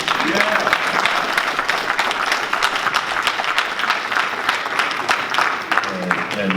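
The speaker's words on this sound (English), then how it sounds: "so we can give you applause for" An audience at a women's month community association meeting gives Ms. Gary a sustained, dense round of applause, with voices talking over the clapping throughout.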